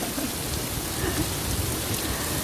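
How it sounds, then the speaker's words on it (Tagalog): Heavy rain pours down in a dense, continuous hiss, steady and loud throughout with no voices. "So, sobrang ulan guys."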